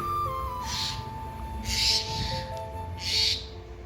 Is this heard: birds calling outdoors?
yes